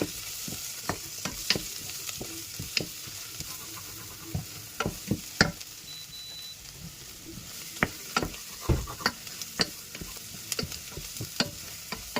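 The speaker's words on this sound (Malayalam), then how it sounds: "ഇനി അതൊന്ന് ഇളക്കി മിക്സ് ചെയ്യാം" A spoon stirs Kerala-style chicken curry with ground coriander in a frying pan, giving a steady sizzle broken by irregular scraping clicks and knocks, close and fairly quiet.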